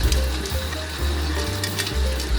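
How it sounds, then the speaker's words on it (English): Water pours in small portions into very wet pan de cristal bread dough churning in a stand mixer, a continuous gushing splash over the machine's low, pulsing motor hum. "I'm adding some more water"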